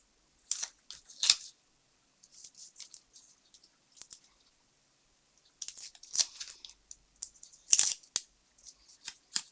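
Scissors trim a paper leopard cutout for a tri-fold shutter card. Several separate bursts of crisp snipping come close and quiet, with short pauses between the groups of cuts.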